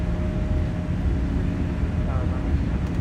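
A Boeing 787 at takeoff thrust on a runway, heard from the cockpit: a steady, loud, broadband engine roar with a deep rumble underneath, constant throughout, with no speech over it.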